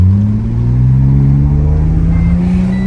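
A neglected skid car with a check engine light fault and heavy vibration revs hard while accelerating, its close, loud engine tone climbing steadily in pitch without a pause.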